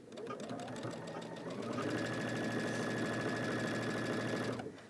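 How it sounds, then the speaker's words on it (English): A sewing machine runs steadily, stitching a quilt hanging sleeve with a quarter-inch seam, a close, continuous mechanical whir with a rapid needle rhythm lasting nearly five seconds before stopping abruptly. "with a 1/4 inch seam, you're just going to stitch all the way down"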